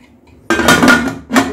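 A lid set down on a cooking pot while a sesame cake steams, making a loud metallic clatter that rings briefly, followed moments later by a second shorter clink.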